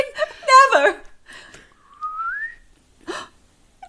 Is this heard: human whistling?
yes